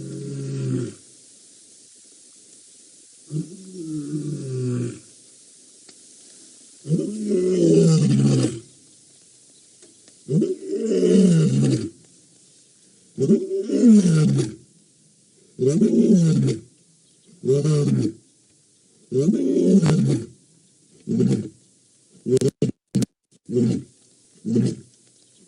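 A male leopard on an African safari roars in a rasping, sawing series of about a dozen close, loud grunts, the strokes growing shorter and quicker toward the end, with no talk over them.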